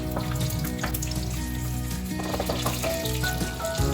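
Chopped onions dropped into hot oil in an earthen pot, a steady dense sizzle with crackling bursts and light clinks close by.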